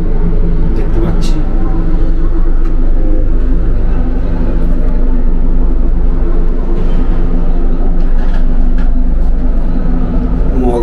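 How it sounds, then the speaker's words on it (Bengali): Howrah–Ranchi Shatabdi Express pulling out of Howrah station, a steady low rumble of the moving train with constant broadband noise throughout, heard from inside, with a voice talking over it. "ট্রেন ছাড়লো হাওড়া থেকে"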